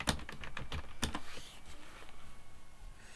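A password is typed on a computer keyboard in a run of close, crisp keystrokes, several sharp clicks early on and then softer irregular taps, with no talking.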